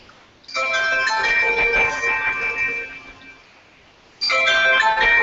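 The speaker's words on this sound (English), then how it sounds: "He got a phone call." A phone ringtone for an incoming call plays loudly and close during an online video call, a bright repeating melodic tone that rings for about three seconds, pauses, then starts again.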